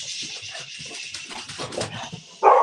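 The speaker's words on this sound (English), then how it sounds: "let me get my dog. She's going to bark." After a few soft shuffling noises indoors, a pet dog lets out one sudden, loud bark near the end.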